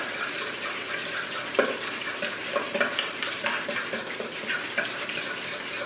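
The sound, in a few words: beating egg into sugar in a mixing bowl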